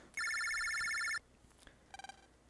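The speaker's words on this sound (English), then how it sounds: "Looks like a phone call for you." Telephone ringing in the Mega Man Battle Network 2 video game: a bright electronic ring tone sounds for about a second, followed after a pause by a short burst of quick chirping beeps, with no talking.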